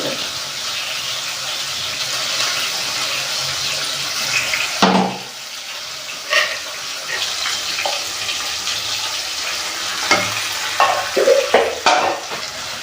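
Ginger garlic paste fries with vegetables in a pan, sizzling steadily while a spoon scrapes and clatters against the pan in irregular bursts.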